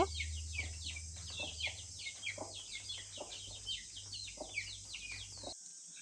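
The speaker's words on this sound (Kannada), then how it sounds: "ನೋಡಿ ಕೋಳಿ ಶಬ್ದಗಳು ಎಷ್ಟು ಚೆನ್ನಾಗಿದೆ" Chickens cluck and squawk in a steady stream of short, overlapping calls close by. A constant low hum runs underneath and cuts off near the end.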